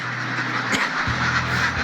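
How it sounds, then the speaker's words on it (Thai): Ducks on a farm quack and murmur while eating, a steady close chorus of nasal calls with a low hum underneath, no voices. "ตอนนี้น้องเป็ดกำำลังกินอาหารอยู่นะจ่า"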